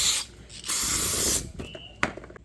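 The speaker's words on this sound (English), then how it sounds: "we'll clean up all the parts with a little bit of brake parts cleaner" Brake parts cleaner sprays onto rear brake parts of a Mustang in two sustained, loud hissing bursts at close range. Soft clicks and handling noises of the parts follow.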